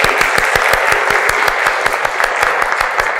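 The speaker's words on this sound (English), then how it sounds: "everyone give them a hand of applause." Audience applause after a talk on handmade ocarina flutes, a dense, steady wash of many hands clapping at close range, lasting throughout without pause.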